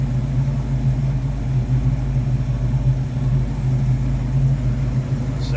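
A 1965 Ford Mustang coupe with a 289 V8 and Ford Racing valve cover gaskets runs steadily at idle, giving a loud, even low rumble throughout with no talk over it.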